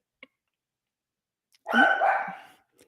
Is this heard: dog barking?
yes